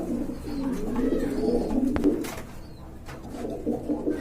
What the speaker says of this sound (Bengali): এখানে দেখতে পাচ্ছেন কবুতর আছে